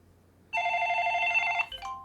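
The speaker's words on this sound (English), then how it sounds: "And as you can hear and see, it's ringing." Desk phone on a Unifi Talk system, a Grandstream handset, rings with a clear electronic trill, one sustained burst of ringing that starts abruptly and cuts off near the end, close and alone.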